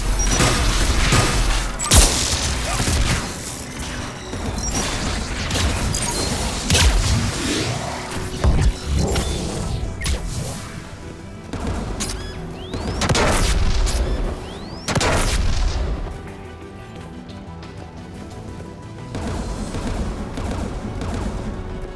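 Dense, continuous gunfire and heavy booms from the guns defending a tower during a Geth battle in Mass Effect, with layered blasts and rumbling explosions that stay loud throughout.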